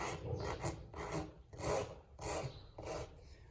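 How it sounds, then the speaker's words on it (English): A farrier's worn rasp files down the heel of a dry, hard horse hoof in six rough back-and-forth strokes, close and fairly quiet, with no talk. "The feet are very dry, so you're going to see my rasp have a little bit of problem because I do need a new rasp."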